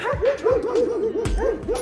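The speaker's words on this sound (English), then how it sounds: "Apologize for the dogs." Several dogs bark and yip in quick, overlapping bursts, a few whiny yelps mixed in, fairly close and loud throughout.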